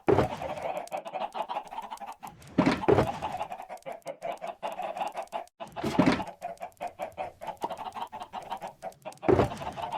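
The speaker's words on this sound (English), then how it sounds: "These chickens are making so much noise." Chickens in a video game cluck and squawk almost continuously, several birds close by, with a few louder bursts of calls standing out every few seconds.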